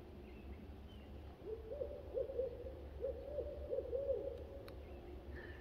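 Rhythmic owl hoots carry from roughly 100 yards behind a house into the backyard, a repeating series of mellow calls, moderately distant and alone against faint background hiss.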